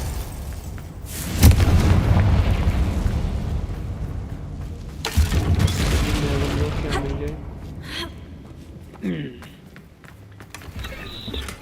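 The Confringo fire spell in Hogwarts Legacy goes off in two heavy booming blasts a few seconds apart, each followed by rumbling debris, while someone talks over the game audio.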